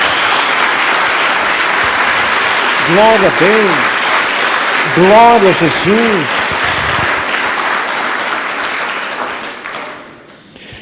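A church congregation applauds steadily as a dense, loud wash of clapping, with a preacher's voice calling out over it and the applause fading toward the end.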